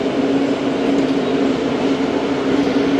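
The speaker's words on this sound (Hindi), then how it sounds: "2 मिनट स्टॉप के बाद घोटकी रेलवे स्टेशन से ट्रेन रवाना हो गई" Train rolling out of Ghotki railway station in Pakistan after a two-minute stop, a steady loud rumble of wheels and carriages with a constant low hum, no voices.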